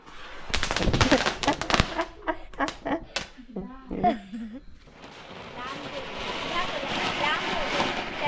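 Diwali firecrackers give sharp cracking bursts, popping in a rapid cluster early on, then scattered snaps among voices and noisy chatter.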